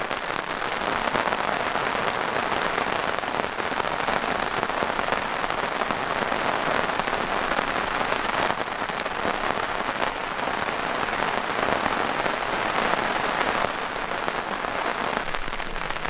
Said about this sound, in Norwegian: nå regner det hele tida.